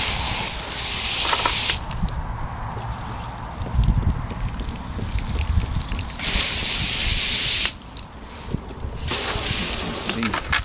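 Water sprays and hisses loudly over the roots of a repotted Japanese larch bonsai, in several bursts with brief pauses and changes in force, up close and alone.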